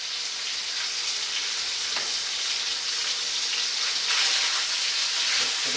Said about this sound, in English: just getting the frying pan ready, cook a bit of bacon